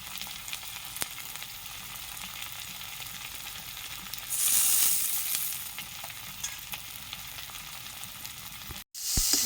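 Spices with salt, turmeric and chili powder frying and being stirred in a pan, a continuous low sizzle with soft scraping, briefly louder midway before a short cut near the end.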